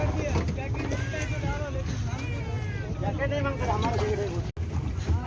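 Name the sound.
boat ride off Calangute beach, Goa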